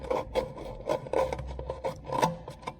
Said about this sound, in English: I'll be able to get right in here with some sandpaper, just clean that out real good.